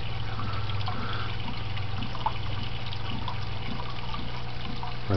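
A desktop aquaponics planter fills with water pumped from the fish tank, a continuous close trickle and gurgle over a steady pump hum.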